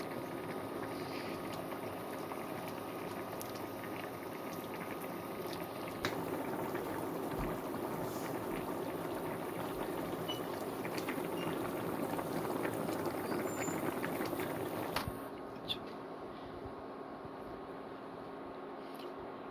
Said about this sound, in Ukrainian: готуємо під кришкою на невеликому вогні до готовності